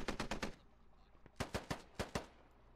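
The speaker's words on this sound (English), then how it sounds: "Taking fire over here." Gunfire in the video game SquadOps: two quick bursts of rapid shots, about five sharp cracks each with a short pause between, moderately loud and fairly close, no talk over them.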